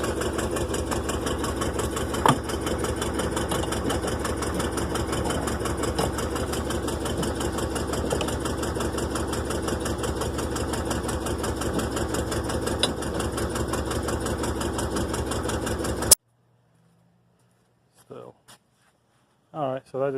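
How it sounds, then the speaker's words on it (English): A Rolls Royce engine runs steadily under load, struggling against brake pressure with a continuous mechanical drone and rattle that cuts off abruptly near the end, followed by brief speech in near silence. "you can hear it struggling because that's the engine basically struggling against the brake pressure"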